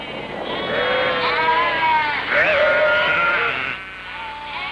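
Sheep on Easter Island, a sparse-pastured wool-producing flock, bleat continuously in overlapping wavering cries over steady outdoor noise, several animals calling at once close by.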